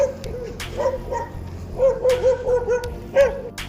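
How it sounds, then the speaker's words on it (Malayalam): A dog barks repeatedly in short, irregular bursts, fairly close, with a few yips and whines between the barks. "അവിടെ നിന്നൊരു പട്ടി എഴുന്നേറ്റ് നമ്മളെ കടിക്കാൻ വേണ്ടിയിട്ട് വന്നു"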